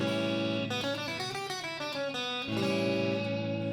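A sustained, harmonically rich guitar moves through a run of stepwise scale notes in a blues lesson, then settles on a held tone; loud and steady with no pauses.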